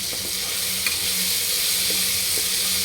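Masala frying in a pan while coconut rice is made, a steady close sizzle with faint stirring scrapes running alone throughout.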